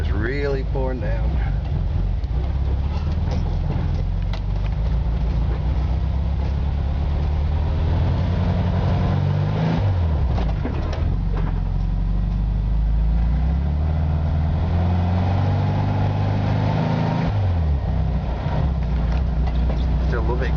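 Volkswagen van with a Weber carburetor driving through heavy snow, a loud steady low engine drone heard from inside the cabin, with pitch rising and falling as it shifts, and wind rumble over the microphone.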